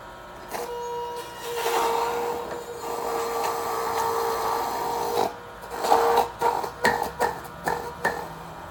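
Carrot ground through a PURE juicer, a steady mid-pitched grinding whir that runs continuously, then breaks into a series of short choppy bursts near the end, close and fairly loud with no talking.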